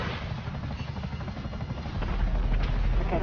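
A helicopter in the video game GTA 5 Online gives off a steady, loud rotor and engine roar that swells louder partway through, with no talking.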